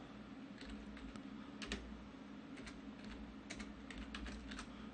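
Quiet typing on a computer keyboard while text is edited in Photoshop, with irregular bursts of soft key clicks over a low steady background hum.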